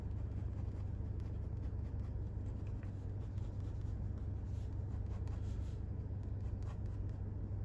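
A pencil scratches softly across paper while a figure is sketched, faint and continuous over a steady low hum in a quiet room.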